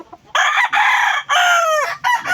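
A backyard rooster crows loudly and close by, with several long, strained calls in a row and the clucks of other chickens kept for income between them.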